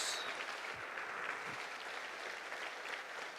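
A church congregation at a Sunday morning service applauds, a dense, even wash of clapping from a large crowd heard at a moderate distance and sustained throughout.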